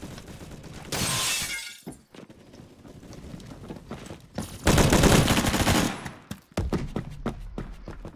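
StG-44 assault rifle fired in the game Phantom Forces on a test range: loud bursts of rapid automatic gunfire with short gaps between them, alone, with no talk over it.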